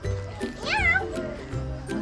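A cat meows in a short rising-and-falling call near the middle, close and clear, with a person's voice talking around it in a busy setting.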